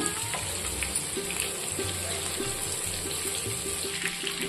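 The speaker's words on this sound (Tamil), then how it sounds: "மீன் பொரிஞ்சிட்டு இருக்கும்போது நம்ம இந்த எண்ணெயை எடுத்து மீன் மேலே இந்த மாதிரி விட்டுட்டே இருக்கணும்" Tandoori fish frying in oil on a tawa, a steady dense sizzle heard close up with a constant background hum and no talk.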